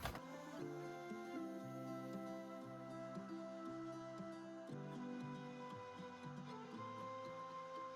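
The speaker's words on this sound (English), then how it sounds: "you could certainly go ahead and top stitch around the two colors there" Sewing machine top stitching a doll dress, a steady mechanical hum with a quick rhythmic stitching pattern, close and fairly quiet, running continuously without any voice.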